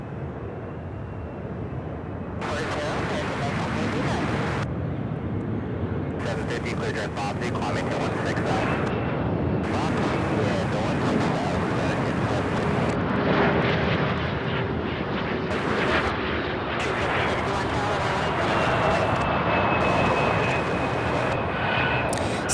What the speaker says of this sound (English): It's a CRJ 900 LR.